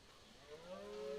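Faint, distant lowing calls from cattle or deer in a survival game drift up as thin, rising, drawn-out tones over a quiet background hum, growing slightly louder toward the end.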